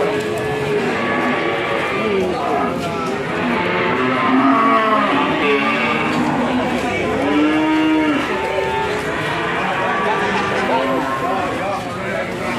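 Cattle, young feeder calves under a year old, moo repeatedly at the Ambarketawang livestock market, with several overlapping calls near and far amid steady crowd chatter and people talking throughout.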